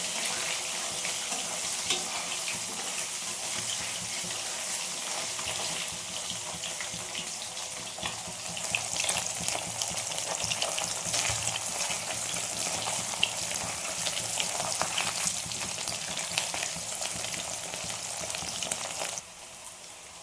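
Fish pieces crackle in hot oil with a constant, fairly faint sizzle that holds for the whole stretch and then drops off abruptly at the very end.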